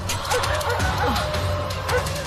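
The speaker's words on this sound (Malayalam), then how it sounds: "നായ്ക്കൾ വല്ലാതെ കുരയ്ക്കുന്നുണ്ടല്ലോ" Dogs bark and yelp repeatedly over a steady low hum, with short whimpering calls mixed in; the barking sounds moderately close and continuous.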